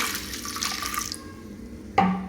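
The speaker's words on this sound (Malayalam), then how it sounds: "വെള്ളം കൂടി ചേർത്ത്" Water pours into a pot of lentils mixed with turmeric powder for sambar, a close, steady stream running for about a second before stopping, followed by a single knock of the vessel.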